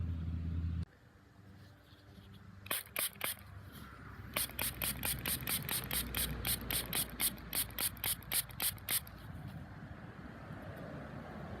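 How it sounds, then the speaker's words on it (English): A squirt bottle sprays water onto a freshly dug 1944 Mercury dime: rapid repeated pump-sprayer clicks and hissing squirts in bursts, close and fairly loud over outdoor background noise. "Let me squirt this off."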